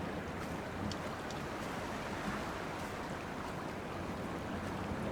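Wind and water ambience in the exploration game Dear Esther forms a steady, unbroken roar of gusting air and lapping surf around a pond or shore. It stays even and enveloping throughout, with no voices.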